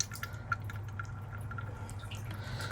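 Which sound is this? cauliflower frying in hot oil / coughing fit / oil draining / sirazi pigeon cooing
oil draining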